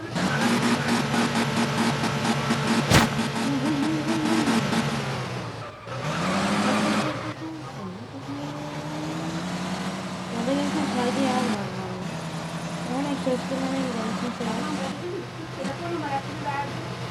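A car engine in the Car Parking Multiplayer video game cranks and fires up with a sharp burst. It then revs up and down repeatedly in rising and falling sweeps, loud and close, with a person talking over part of it.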